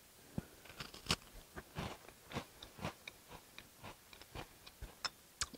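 Candy corn cookies being bitten and chewed in a taste test, a close run of crisp, crunchy bites and chews repeating in a loose rhythm, quiet and with no talking.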